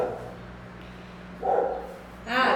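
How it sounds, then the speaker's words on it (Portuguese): A pet dog at a house gate barks in two loud bursts, the first around the middle and the second near the end, separated by a quieter stretch. "a Magá late desse jeito que vocês estão escutando"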